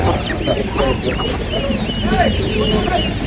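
Mysore native chickens cluck and chatter at an open livestock market, a steady close flock sound with people talking over it throughout.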